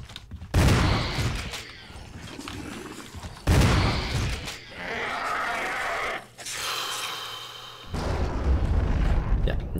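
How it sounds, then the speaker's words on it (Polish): Loud, booming shotgun blasts in Resident Evil HD go off a few seconds apart, each with a long echoing tail, between quieter rumbling stretches. "Dwa strzały z shotguna, tak?"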